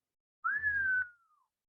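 One soft whistle from a person indoors, rising briefly and then gliding slowly down before fading out, with near silence before and after.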